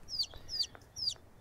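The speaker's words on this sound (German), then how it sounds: "Unsere gute Henne." A hen in The Sims 4 farm life game gives three short, high clucks in quick succession, close and clear over a quiet background.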